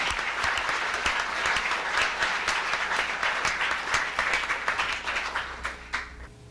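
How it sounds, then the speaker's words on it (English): Sustained applause from a large crowd at a 1991 environmental leadership summit gathering people of color, dense steady clapping filling the room without pause and tapering slightly near the end. "Let us greet each other with our applause to each other once again."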